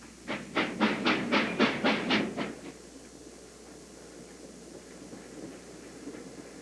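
Summer passenger excursion steam train on the Big South Fork Scenic Railway, giving about eight rhythmic, fairly loud chuffs that stop abruptly, leaving a low hiss and rumble from the locomotive.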